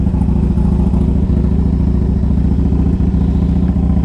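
A low-mileage 2003 Harley-Davidson Electra Glide Ultra motorcycle idles close by, its engine throbbing loudly and evenly in a steady, lumpy rhythm with no pauses.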